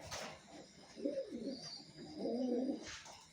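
A racing pigeon gives two soft, rolling coos close by, separated by a short pause, over a quiet background with no talking.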